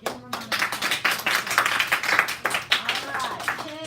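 Students in a classroom clapping in a short round of applause, a quick patter of many hands close by, with a voice speaking alongside.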